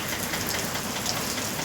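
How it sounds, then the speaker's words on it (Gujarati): Steady rain falling, a continuous dense hiss of drops on surfaces at an even, moderate level with no voices. "વરસાદ પડી રહ્યો છે"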